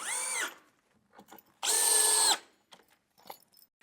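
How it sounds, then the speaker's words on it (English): A power drill drives gold screws into a wooden sauna floor frame in two short high whining bursts, the second longer, separated by quiet handling clicks and knocks of the wood. "we'll use the gold screws to screw it together"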